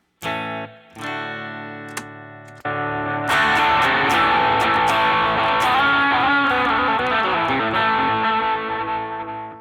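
An electric guitar played through an amp with tape echo on a Headrush Gigboard: a few sustained chords ring out, then a loud, continuous distorted passage with repeating echoes fills the rest, with no voices.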